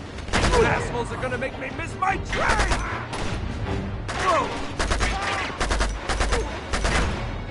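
Shotgun blasts and gunfire in the video game Uncharted 2: Among Thieves, repeated loud bursts in an ongoing firefight, with someone talking over the shooting.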